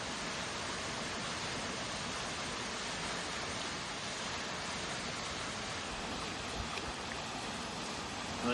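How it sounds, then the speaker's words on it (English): A muddy waterfall in a canyon gives off a steady, broadband rushing roar that stays constant throughout, soft and continuous with no other sounds. "The muddiest waterfall I've ever seen."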